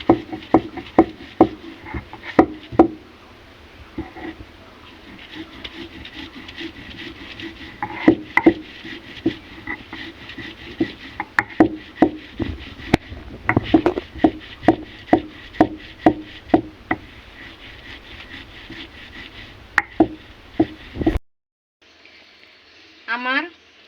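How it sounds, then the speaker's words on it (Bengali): Spices ground by hand on a shil-pata grinding stone in a village kitchen give a steady run of sharp stone knocks and thuds, close and fairly loud, with a voice talking faintly underneath. "আমি এগুলো শিলপাটায় বেটে নেব।"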